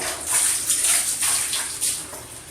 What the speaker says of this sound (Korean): 샤워기를 물을 흘린 상태에서 계속 헹궈주시면 되세요. 물은 계속 나와요.